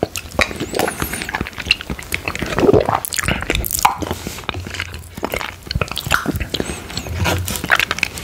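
Close-up eating of vanilla pudding topped with strawberry sauce: soft, wet squishing and smacking chews with small slurpy bites, steady and intimate throughout, no talking.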